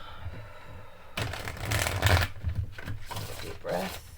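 A deck of tarot cards is shuffled close up, starting after a quiet moment with bursts of riffling and rubbing card noise that rise and fall over a few seconds.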